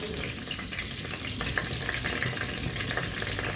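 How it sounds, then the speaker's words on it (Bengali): A bay leaf and cumin seeds tempering in hot oil for a Bengali prawn curry, a continuous loud frying crackle with fine spattering pops, close up and unbroken. "ফোড়নে দিয়ে দিচ্ছি একটা তেজপাতা, সামান্য একটু জিরে"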